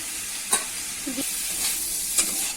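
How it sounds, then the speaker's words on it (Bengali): A mocha (banana blossom) chop filling with cumin powder sizzles in a pan, a steady bright hiss with a few sharp stirring scrapes close by; no voices. "এখানে দেখো ভালো করে নাড়িয়ে নিয়েছি"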